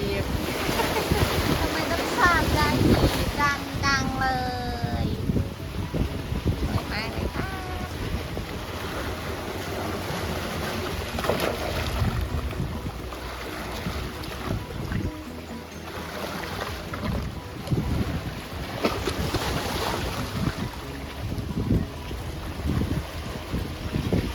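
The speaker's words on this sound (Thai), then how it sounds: "นี่คือทะเลสัตหีบ หาดนางรอง" Sea waves wash onto Nang Rong beach in Sattahip, Chonburi, beneath heavy wind buffeting the microphone, with people talking now and then over the continuous surf.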